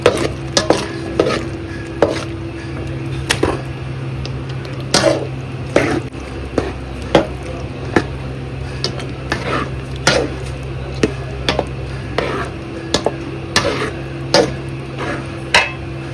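Tomato, onion and ginger-garlic paste sauté with chicken in a pan for Madurai wedding-style pepper chicken, a low steady sizzle under repeated sharp clacks of a utensil stirring against the pan at irregular intervals.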